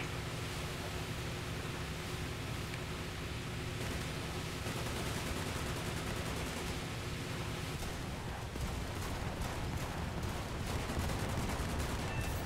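A small cannon on an MPK Pr.122 bis submarine chaser in War Thunder fires repeatedly, with close, heavy reports over a steady broadband rumble of engine and sea. The shots grow denser and sharper toward the end.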